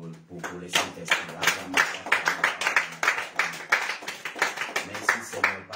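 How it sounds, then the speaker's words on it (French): A church congregation claps in rhythm and cheers in praise of the Holy Spirit during a fasting and prayer service, steady near handclaps with voices mixed throughout. "Est-ce qu'on peut acclamer pour les Saint-Esprit?"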